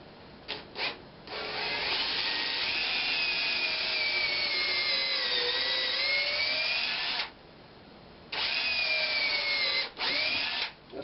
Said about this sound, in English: Got my drill bit in here for my wormwood screw.